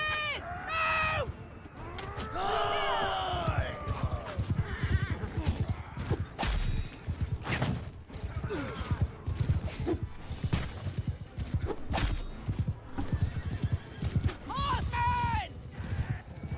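Cavalry horses in the medieval battle game Bannerlord gallop in a steady thudding clatter beneath battle noise, with several shrill whinnies rising above the din near the start and end.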